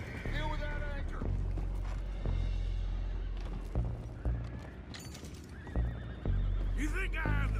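Horses neigh in a video game, loud, close whinnies near the start and again at the end. Hoof clip-clop and a steady low rumble run underneath, with voices mixed in.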